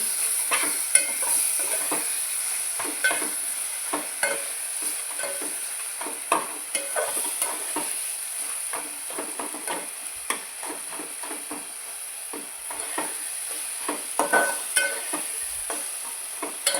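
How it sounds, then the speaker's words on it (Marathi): Garlic and ginger paste fries in a pan while a spoon stirs it steadily, giving a continuous close sizzle broken by frequent light scraping taps. "दोन मिनटं हलवायचं आहे चांगलं व्यवस्थित लसूण आणि आलं चांगलं भाजेपर्यंत"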